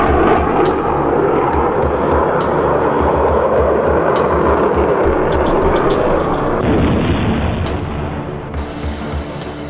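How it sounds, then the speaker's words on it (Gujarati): An American B-2 stealth bomber roars loudly and continuously in flight, a broad, heavy jet rumble that shifts tone partway through and eases slightly near the end. "એક મોટા પક્ષી આકારનું વિમાન છે અમેરિકાનું B-2 સ્ટેલ્થ બોમ્બર"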